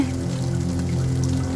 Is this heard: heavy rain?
yes